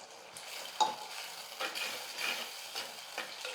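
A spoon stirs curry leaf and garlic kuzhambu with ground curry leaf powder and masala in a pan, giving light scraping clinks over a soft, steady sizzle, close and fairly quiet, and no one speaks.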